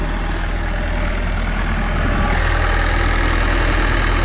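A repaired Bobcat mini excavator with several thousand hours idles with a loud, steady diesel drone and a constant low throb that stays even throughout.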